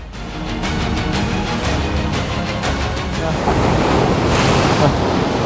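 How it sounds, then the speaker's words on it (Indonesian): Ocean waves break continuously on the shore at Paranggupito on the Indonesian coast, a loud, close, rushing surf with heavy wind buffeting the microphone and the wash swelling toward the end. "Jadi ombaknya memang terus-terusan, mungkin jeda beberapa detik,"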